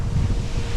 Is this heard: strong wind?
yes